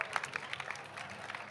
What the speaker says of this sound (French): Qu'on applaudit, s'il vous plaît.